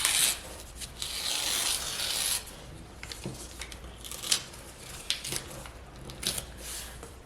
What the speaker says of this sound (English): so I'm gonna rip this last bit in half.